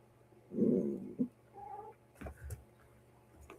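A pet cat lets out a loud, drawn-out meow near the start, followed by a shorter cry and a few faint vocal sounds and small indoor noises.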